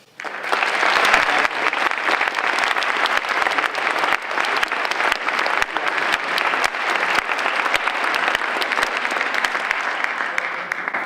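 An audience applauds at the end of a university lecture, a loud, sustained burst of dense clapping that starts abruptly and carries on evenly for several seconds.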